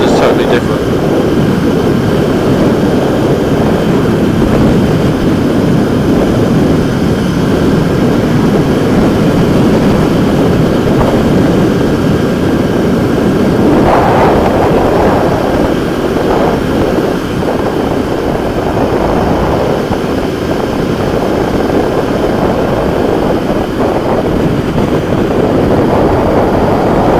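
A Royal Enfield Interceptor 650 motorcycle cruises at about 60, a loud, constant engine drone mixed with heavy wind rush that persists without a break.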